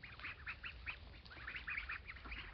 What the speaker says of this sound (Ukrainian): Качки.